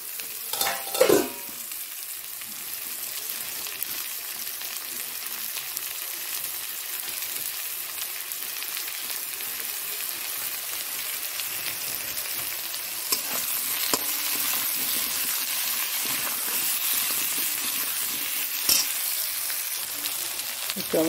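Cut potatoes sizzle in hot oil in a pan for Bengali fish curry, with a steady close frying hiss throughout and occasional stirring scrapes and knocks.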